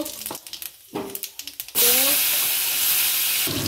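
Whole spices dropped into hot oil for tempering, a sudden loud sizzle bursting in after a few quiet clinks and a brief voice, then holding steady and close.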